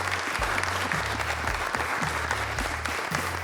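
Audience applause at the close of a masterclass with Didier Truchot, president of Ipsos: a warm, continuous round of clapping from a seated crowd, close and steady, with a low hum underneath.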